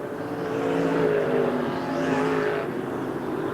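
USAC midget race cars roar past on the Raven Raceway oval, engines rising and falling in a continuous whine as the pack sweeps by at moderate distance.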